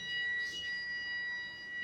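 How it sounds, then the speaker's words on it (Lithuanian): An alarm sounds aboard a bus, a steady high electronic tone with layered pitches holding for about two seconds at moderate level, with a faint low rumble beneath and no talk. "Šaukia signalizacijos"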